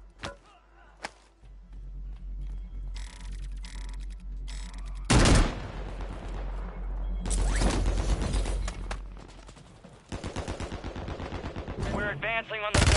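Video game combat with loud automatic weapon bursts and heavy shots that come in clusters, some booming close by, with quieter rattling fire in between.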